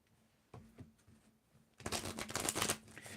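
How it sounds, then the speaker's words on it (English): Tarot cards are shuffled by hand during a reading, starting with a few soft riffles and taps, then building into a louder, denser flurry of card rustling, close and alone, with no speech. "Give it a little shuffle here."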